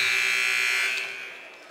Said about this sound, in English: We finally get that final buzzer